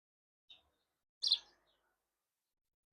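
A bird nesting up under a roof gives a few short chirps, sparse and fairly close, each brief call separated by silence in a quiet garden.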